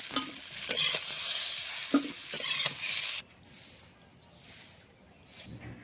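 Potato and pointed gourd fry in hot oil in a pan, with a loud, steady sizzle and repeated scraping stirs for about three seconds, then a much quieter, softer sizzle with a few faint scrapes.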